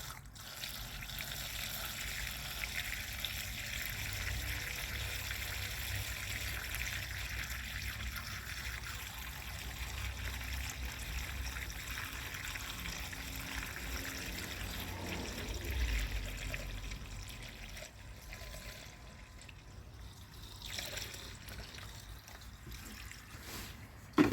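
Diesel pours from a gallon jug in a steady, faint trickle and splash, continuing for a long stretch with a brief louder surge near the end.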